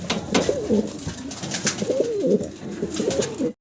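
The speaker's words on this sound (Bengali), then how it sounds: "দর্শক ভিডিও স্ক্রিনে আপনারা দেখতেছেন মডার্না কবুতর" Fancy Modena pigeons coo close by in a series of rolling, throaty phrases, fairly loud and continuous until an abrupt stop at the end.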